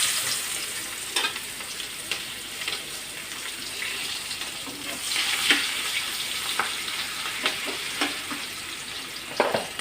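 Onion sizzles steadily in hot oil in a home kitchen, a dense crackle with occasional sharper pops and clinks of a utensil against the pan, loud and close, with no speech.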